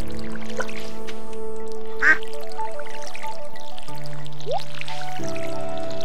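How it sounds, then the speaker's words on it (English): A duck quacks in the Stardew Valley farming game: a few short, clear quacks over steady background game music, with no voices. "Sounds like our duck is rather happy."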